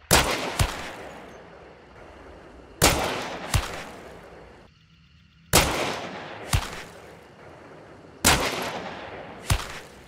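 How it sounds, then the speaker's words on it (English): A Caldwell New Army rifle in Hunt: Showdown fires medium FMJ rounds: loud, sharp shots come mostly in spaced pairs, each with a ringing decaying tail, about seven in all. "Here's the Caldweel New Army with medium FMJ ammo with a velocity of 200."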